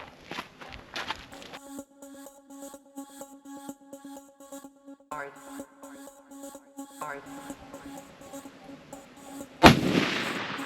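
Gunfire at an outdoor gun range in Australia: a single loud, sharp shot bursts out near the end, following a stretch of steady mechanical hum and a few scattered knocks and clatters.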